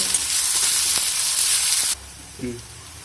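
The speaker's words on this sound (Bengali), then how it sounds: "আদা রসুনের কাঁচা গন্ধ চলে যাওয়া পর্যন্ত আমরা নেড়ে নেব" Grated ginger and garlic fry with onions in a pan, giving a loud, close hiss of sizzling with a few stirring scrapes that cuts off abruptly partway through, followed by a brief murmur of voice.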